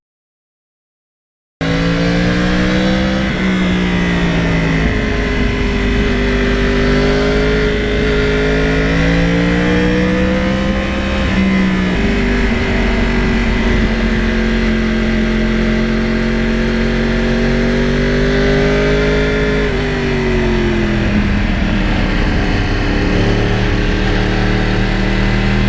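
Loud, close engine of a Yamaha R1 crossplane motorcycle starts after a brief silence and then drones on with long rising and falling pitch sweeps as it cruises, with no talking.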